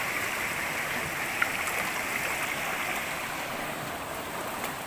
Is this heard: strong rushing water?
yes